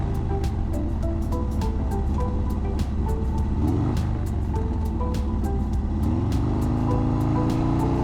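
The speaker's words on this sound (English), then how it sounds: "So we're getting out on the Sportster for a little rip around the town. I just love the way this thing feels. Sounds amazing." A Harley-Davidson Sportster motorcycle rides through town, its engine holding a steady, loud, close drone with a rising note near the end, all under a constant rush of wind.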